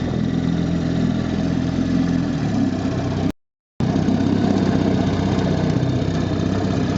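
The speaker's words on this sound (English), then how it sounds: "So this motor idles like a dream" A 1960 West Bend 12hp outboard boat motor idles with a steady, close, low chugging rumble, briefly cut to silence midway before resuming at the same even pace.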